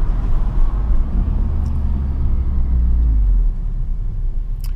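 A Honda Civic Type R FN2 fitted with a Japspeed cat-back exhaust drones steadily while cruising in third gear, with a loud, continuous low rumble that swells slightly and eases back.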